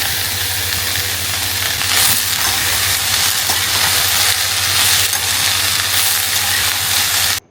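Previously fried potatoes go into a pan already holding raw green mango, onion and okra, giving a loud, steady close sizzle and hiss with faint stirring scrapes throughout.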